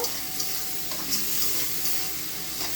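Salted prawns sauté in hot oil in a pan, making an even, close sizzle with faint stirring scrapes and no voices.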